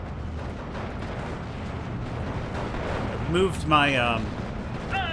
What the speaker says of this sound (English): all these guys are retreating from my 75 mil fire